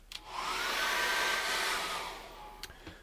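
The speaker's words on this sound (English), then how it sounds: "when I get my hairdryer on that, then it'll dry that right back." A hair dryer runs steadily for a few seconds, drying acrylic paint on a cherry blossom painting: a close, even whooshing roar that starts with a click and fades before a couple of faint knocks, with no talk.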